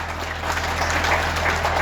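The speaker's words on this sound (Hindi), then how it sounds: "इनको भी ताली लगा दो एक बार।" Audience applause at a foundation-stone ceremony for the Gurugram railway station redevelopment, a steady burst of clapping with no talk over it.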